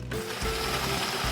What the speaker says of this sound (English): Just a couple of pulses to blend in the cilantro and the salt.